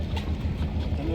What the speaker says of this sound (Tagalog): sakay na uli kami ng bangka